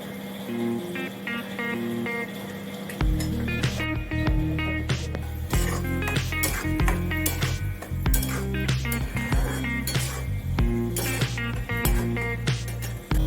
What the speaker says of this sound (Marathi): तोपर्यंत मी इलायची ती कुटून घेते